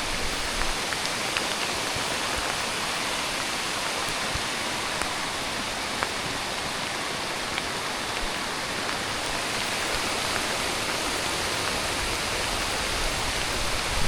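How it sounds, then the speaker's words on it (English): Heavy rain pours nonstop on a rural homestead, a dense, even hiss that never lets up, loud and close with no other sounds standing out. "The rain keeps going and going and going."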